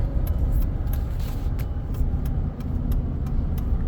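A truck pulls out of a cattle auction yard, its engine a steady low rumble heard from inside a vehicle, with a constant road-and-engine drone throughout and no talking.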